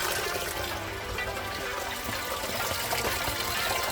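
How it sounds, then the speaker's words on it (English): Tap water runs steadily through the cooling system of a VY Calais during a coolant flush. The rushing, gurgling flow is continuous and fairly loud, with no talk over it. "So the tap is now running down there, and we're flushing out"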